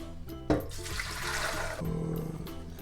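Homemade bone broth pours from a container into a glass vessel with a spout: a sudden splash, then a steady liquid stream for about a second before it tapers off, with faint clinks afterward.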